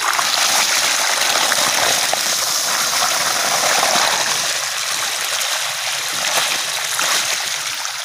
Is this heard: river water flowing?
yes